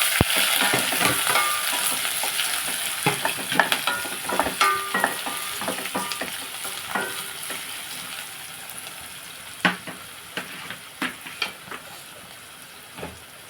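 Green chillies and onions fry in hot oil in a pan, sizzling and hissing continuously close by, with scattered sharp crackles and pops that ease off gradually, and no voices.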